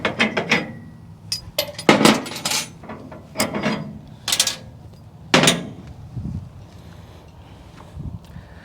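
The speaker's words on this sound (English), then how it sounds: "we're going to raise it up a little bit so the tension is on the winch" A winch ratchets in short clicking bursts as it raises a bike trailer in a garage, with several loud close runs of clicks and softer knocks between them.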